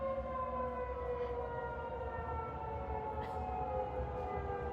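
A tornado warning siren in Illinois winds down, its steady tones sliding slowly lower in pitch as it fades, heard from a distance over a constant outdoor hum with no talk.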